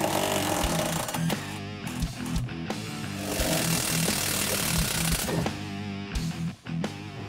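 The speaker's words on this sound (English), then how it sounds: "Now I'm going to start by removing the retaining nut that holds the shock to our trunk floor." Impact wrench on a 2005-2014 Ford Mustang removing the rear shock retaining nut at the trunk floor, rattling in several loud close bursts with brief pauses between them.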